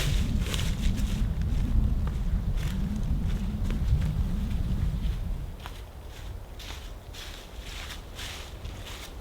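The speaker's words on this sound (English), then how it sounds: "It's too windy." Strong wind buffets the microphone in a heavy low rumble that eases partway through, with scattered scuffs and taps throughout.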